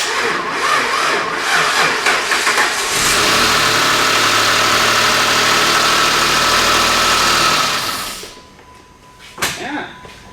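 A Dodge Magnum bought at auction cranks over and catches, running loud and steady for several seconds before cutting off, with a brief voice near the end.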